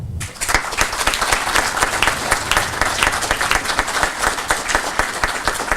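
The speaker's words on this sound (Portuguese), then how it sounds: "eu peço licença para pedir uma salva de palmas ao manifesto" Audience applause at a seminar on anti-union practices, starting abruptly and then holding as loud, close, fairly rhythmic clapping from many people, with individual claps standing out in a steady pulse.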